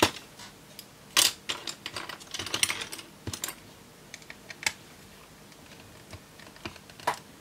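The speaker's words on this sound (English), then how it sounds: "we'll take these screws off first, see what we've got, and go from there" Tight, cheap screws being undone with a screwdriver on a camping light fly zapper, scattered close clicks and scraping creaks in irregular bursts.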